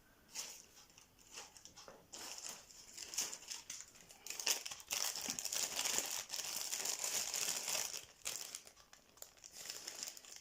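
Plastic crinkles and rustles continuously for several seconds, close and fairly loud, in irregular bursts as it is handled.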